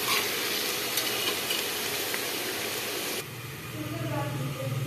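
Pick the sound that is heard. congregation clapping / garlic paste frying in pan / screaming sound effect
garlic paste frying in pan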